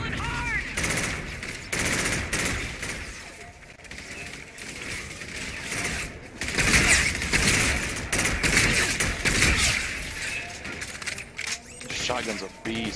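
Call of Duty: Infinite Warfare firefight with shotgun blasts: sharp, loud bursts of gunfire in quick clusters, mixed with other gunfire and game noise, while people talk over it.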